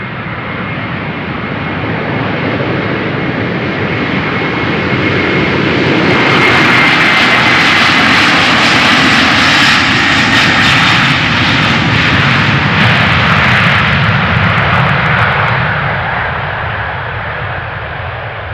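Jet airliner engines spooling up for departure on runway 36L at Amsterdam Schiphol, a loud, continuous roar that swells steadily, peaks in the middle and then eases slightly as the aircraft moves off.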